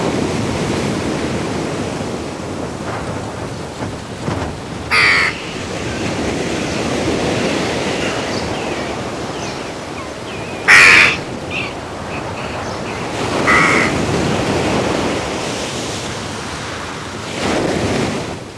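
A raven and jackdaws call above sea cliffs, with a few loud, sharp caws heard apart from one another over steady crashing surf and gusting wind noise.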